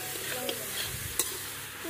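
Green beans fry in a pan with a steady, fairly quiet sizzle, a few faint stirring scrapes and one sharp utensil clink partway through; no one speaks.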